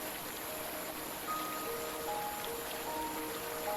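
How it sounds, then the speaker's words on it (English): A rushing creek at night in Yosemite National Park, unseen in the dark: a steady broadband wash of flowing water, moderately distant and continuous, with no talk. "We hear the rushing creek, but cannot see it."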